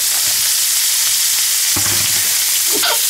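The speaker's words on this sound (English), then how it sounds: "I'm just gonna saute the green beans in this" Green beans seasoned with black pepper and salt sauté in a pan, giving a steady close hiss of frying with a few brief clinks and stirring scrapes near the middle and end.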